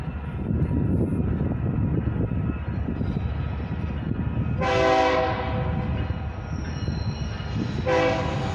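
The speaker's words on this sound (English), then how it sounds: "a train comes through the area, not supposed to hit the car" A train comes through a crossing area, its rumble and rolling noise steady throughout, with a loud horn blast in the middle and another short horn sounding near the end.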